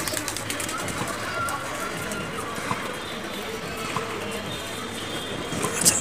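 Pigeons on a rooftop being fed, their soft calls blending into a steady, moderately loud outdoor background of broad noise without clear individual bursts.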